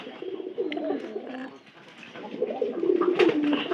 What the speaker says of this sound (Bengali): তো আমাদের প্রায় সবগুলো কবুতর কিন্তু বাতের কবুতর ছিল